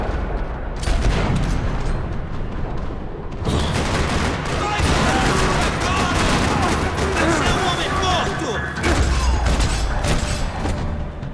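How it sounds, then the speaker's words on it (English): Heavy gunfire rattles through a parking lot in the Max Payne 3 video game, dense overlapping shots and booming bursts running continuously and loud, with a brief lull before the barrage resumes. "Another parking lot rattling with gunfire."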